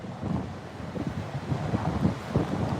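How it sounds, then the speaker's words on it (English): Gusty wind buffets a microphone outdoors on a sunny day, producing a continuous low rumbling roar with irregular surges and no voices. "It's a little bit windy."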